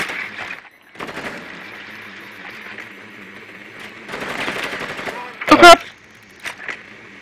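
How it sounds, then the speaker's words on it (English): Rainbow Six Siege match with bursts of automatic gunfire and a sharp loud shot near the end, mixed with game noise and players talking over the action. "they were shooting the both of us"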